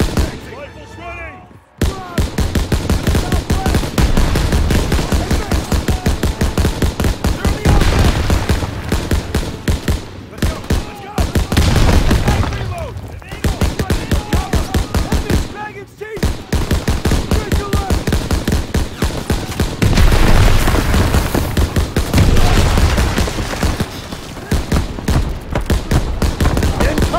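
Sustained rifle and machine gun fire in Call of Duty: World War II, dense rapid bursts and cracks nearly nonstop, loud and close, with brief pauses and shouted voices mixed into the shooting.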